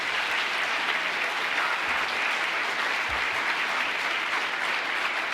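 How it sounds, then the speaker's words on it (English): Sustained applause from the audience at a senior salute event for scholarship students, a dense, steady wash of many hands clapping at an even level throughout. "can we get a round of applause for all the students who got a scholarship tonight?"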